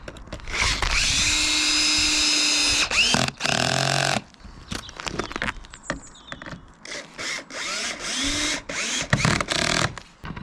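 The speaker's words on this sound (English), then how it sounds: "blast that in with your drill." A power drill drives screws into a backyard mountain bike jump, whirring in loud bursts, several short runs of high-pitched motor whine with brief pauses between, close by.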